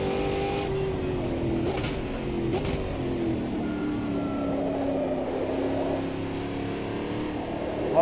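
A 2024 stock car in the racing simulator Automobilista 2 holds a steady engine drone under throttle, fairly quiet with slight pitch swells, and no one speaks over it.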